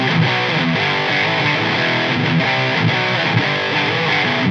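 Heavily distorted electric guitar through a Nembrini Audio MP1, played into a VH 4x12 cabinet with V30 speakers miked by a dynamic 57 and a condenser, a dense, loud, continuous chugging riff.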